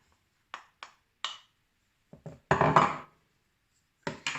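A spoon scrapes butter out of its container into a bowl of flour for gingerbread biscuits, giving several short, close scrapes and clinks separated by pauses, with no talking.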